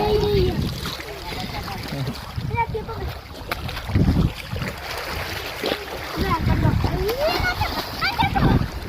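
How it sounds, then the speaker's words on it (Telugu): A flowing river rushes and splashes close by, a steady broadband wash of water with wind buffeting the microphone, while people talk over it. "గలగల పారే నది"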